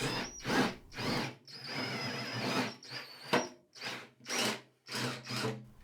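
Power drill boring holes into the steel floor pan of a 2018 Ford Transit van, several separate short bursts of whirring, close and fairly quiet, with brief pauses between each hole.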